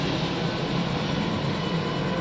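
A loud airplane passes overhead, a steady rumbling engine roar that fills the whole short stretch with no speech.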